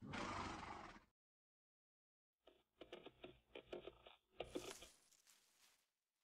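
A harsh burst of noise is followed by silence, then a choppy series of neighing, snorting bursts, a synthetic-sounding horse effect in the game Battle of Empires: 1914-1918.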